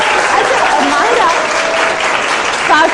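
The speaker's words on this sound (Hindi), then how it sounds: "जहांजेब भाई के लिए तालियां।" Loud studio audience applause on a televised morning show, a thick continuous wash of clapping that stays steady throughout, with voices talking over it.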